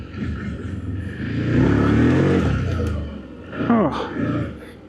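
ODES Pathcross 650 side-by-side engine revving while riding through a forest, a loud rising roar with pitch sweeps, under a man's speech.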